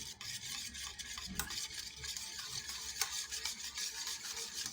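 Palm fruit pulp being stirred and mixed in a bowl for a vegetarian semolina cake batter, giving a steady wet, scraping rustle with a few sharper knocks, fairly close and unbroken.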